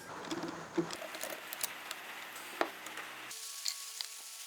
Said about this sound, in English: So it's starting to hammer down rain now